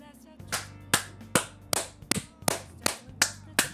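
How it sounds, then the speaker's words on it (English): Clapping in the video game Persona 5 Royal, a sequence of about nine distinct, evenly spaced claps that ring out clearly with no talk over them. "Everyone clap. We get a clap. Everyone clap."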